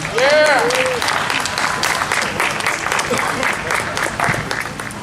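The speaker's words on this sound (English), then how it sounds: "That's a warm round of applause for Ann" Warm applause from an audience at a political event honoring a South Carolina House representative, steady and dense throughout, with a whoop near the start and voices mixed into the clapping.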